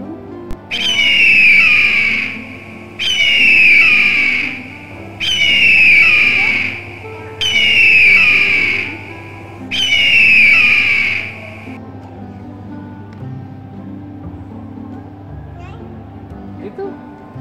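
Parrot at a wildlife museum gives five loud, evenly spaced screeching calls about two seconds apart, each lasting over a second, over a faint background of people talking.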